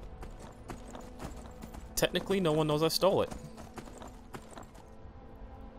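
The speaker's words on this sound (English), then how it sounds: "I'm just gonna take this horse." Horse hooves clip-clop in a steady rhythm in the video game Skyrim, with a whinny-like burst in the middle, while someone talks over the sounds.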